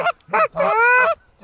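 Geese in a flock passing on an early-season goose hunt in North Dakota, giving several loud, close, nasal honks in quick succession, one drawn out longer than the rest.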